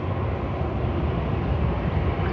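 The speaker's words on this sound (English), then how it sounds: "I think we've got a plane taking off too." Steady broadband roar of an airplane taking off near a river with barges, a continuous engine rumble holding even and fairly loud throughout, with no speech over it.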